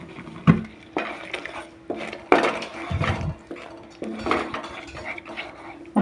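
A plate and utensils are handled in a home kitchen while making mango thandra, with close clinks, scrapes and knocks arriving in irregular bursts over a quiet background.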